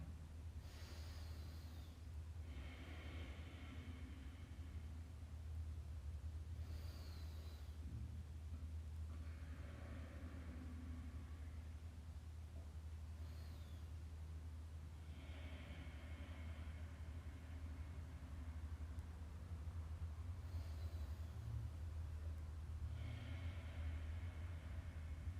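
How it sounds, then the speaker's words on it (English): Slow, soft rounds of breathing from a family doing a quiet yoga exercise together, repeated inhales and exhales spaced a few seconds apart over a low steady hum, with no talking. "this is a quiet exercise, one where you're just listening to each other breathe"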